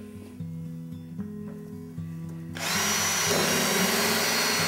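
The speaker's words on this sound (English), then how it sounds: "I'd like to drill the next hole. So let's go ahead and drill a hole there." A power drill whirs at a low idle, then revs up into a loud, steady high-pitched grind as the bit bores through wood.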